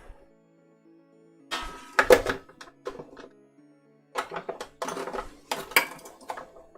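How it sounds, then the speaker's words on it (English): Bursts of rapid mechanical clatter from a sewing machine stitching a shirt placket, starting and stopping a few times, with clicks and handling noises between runs. "let's stitch that together and then cut it. Sewing machine time."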